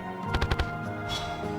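Weapon fire in the video game Terraria with the Calamity mod: a quick burst of four sharp shots in a row, followed by a softer explosive whoosh, all over steady game background sound.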